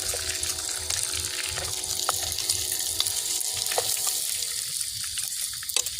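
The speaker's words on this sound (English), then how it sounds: "Oh yeah, I'm just waiting on my bacon." Bacon fries in a pan outdoors, giving a steady, fairly loud sizzle with scattered pops and crackles that continues evenly throughout.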